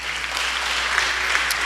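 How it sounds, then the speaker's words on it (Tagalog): A church congregation applauding in a Filipino worship service, a brief burst of loud, even clapping from many hands, steady and close. "Palakpak."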